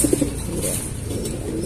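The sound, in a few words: pigeons cooing, racing pigeons of a fancier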